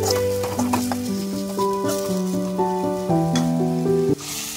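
Ginger paste fries in a pan for pitla curry, a steady sizzle running under a melodic tune of sustained notes, the frying hiss continuous and close, with a brief pause near the end.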